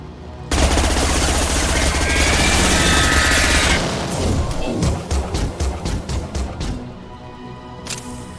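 Mass Effect 2 combat: a sustained roar of automatic gunfire with a heavy low boom gives way to a string of sharp, rapid shots and a final blast, loud and close with no talk.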